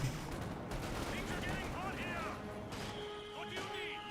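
Rapid .50 cal machine gun fire in a Company of Heroes 2 battle, faint crackling bursts mixed with distant combat noise, with a voice talking over it.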